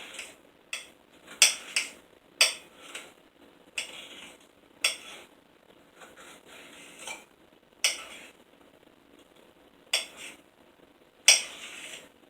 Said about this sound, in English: I have bell pepper and onion. And what I do is I chop it up very, very finely